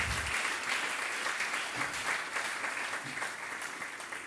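A church congregation claps together during a sermon, an even, moderately distant patter of hands filling the hall without voices.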